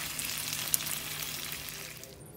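Pot stickers frying in a pan give a continuous close sizzle and hiss with one brief sharp pop partway through, then the sound dies away near the end.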